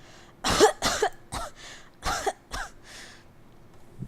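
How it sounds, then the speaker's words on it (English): A run of harsh coughs in a Hustle Cat visual novel, about six close bursts in quick succession that trail off into quiet, with no talking. "I double over coughing as I try to catch my breath."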